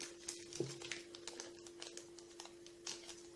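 A plastic wrapper bag from a toy surprise package crinkles while being torn open, with close, irregular rustling bursts throughout and a faint steady hum underneath.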